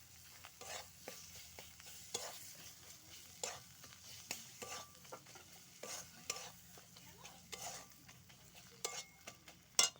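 Tomatoes going into a frying pan and being stirred through hot oil, a steady sizzle broken by repeated scraping strokes of a spoon against the pan, close by with no talk.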